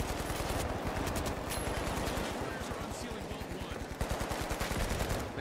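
Rapid automatic gunfire from the video game The Finals rattles steadily throughout, dense repeated shots layered over game effects, with a voice speaking faintly underneath.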